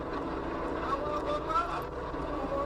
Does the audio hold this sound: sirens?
no